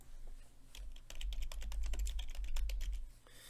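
Rapid, close clatter of keys on a computer keyboard, an irregular run of light clicks lasting a few seconds with no voices.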